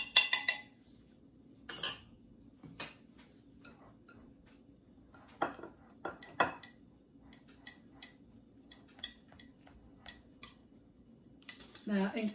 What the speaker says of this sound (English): And I'm going to stir this together.